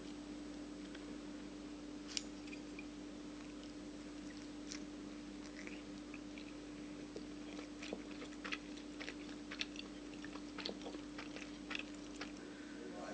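Someone chews chicken breast dumplings up close, with soft, wet, irregular bites and squishes over a steady background hum and no talking.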